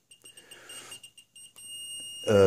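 A high electronic beeping tone from an alarm panel chirps in short repeated pulses, then holds steady, ending with a sudden louder burst of sound.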